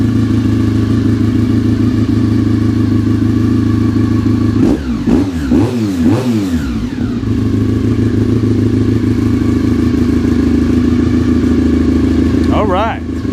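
A Honda RC45 RVF750 motorcycle engine idles with a steady, close, loud drone; a brief rev wavers through the middle, then settles back to idle as a voice talks over it.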